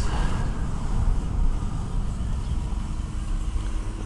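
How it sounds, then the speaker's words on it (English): Steady low rumble of cars on a narrow city street, heard from inside a Mercury Sable as it drives, a continuous close road and engine drone without voices. "Cars, and more cars."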